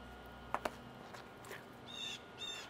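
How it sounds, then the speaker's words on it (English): Birds chirp faintly outdoors beside an outdoor grill, with two short clicks early on and a couple of thin, high warbling calls near the end over quiet background. "Birds are happy."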